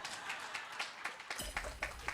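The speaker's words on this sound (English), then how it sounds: "I'll allow you to clap, please." Audience in a live show hall clapping, a scattered run of distinct hand claps with a brief swell of fuller clapping partway through, fairly faint and close together.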